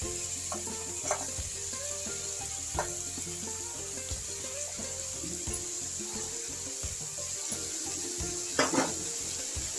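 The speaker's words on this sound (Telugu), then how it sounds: "ఇది ఫ్రై అయిపోయింది కదా ఫ్రై చేద్దాం" Mixed vegetables of potato, carrot, tomato and beans fry in a pan with a steady close sizzle, broken by occasional scraping stirs and clinks of a utensil against the pan; no voices.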